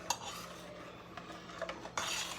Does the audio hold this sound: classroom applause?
no